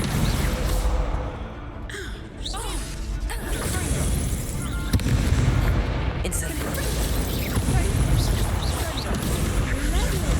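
Spell effects clash in a Hogwarts Legacy wizard duel, with whooshes, booms and bursts of magic layered over game noise while a player calls out spell names.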